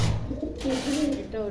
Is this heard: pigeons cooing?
yes